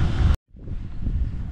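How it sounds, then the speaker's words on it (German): Wind buffets a microphone outdoors beside a caravan, heavy low rumbling gusts that cut out briefly, then return as a softer steady blustering. "Wir haben ein bisschen Wind."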